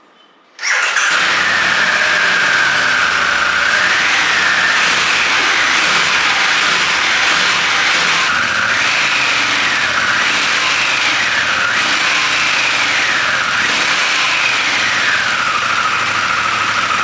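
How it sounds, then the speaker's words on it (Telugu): A 2021 Harley-Davidson Pan America 1250 motorcycle fires up after a moment of silence, then idles loud and close with a deep, steady exhaust rumble rising and falling through several revs. "దీని సైలెన్సర్ సౌండ్ కూడా చాలా స్వీట్గా ఉంది"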